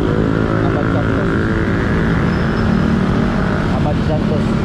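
Motorcycles and other traffic rumble steadily along Abad Santos street in Manila, a dense continuous engine drone close by, with a voice talking over it throughout.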